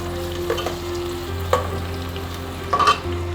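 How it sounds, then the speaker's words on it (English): Onions stir fry in hot oil with a steady close sizzle, broken by a few scraping stirs of the utensil against the pan, over a low constant hum. "While you stir fry the onions"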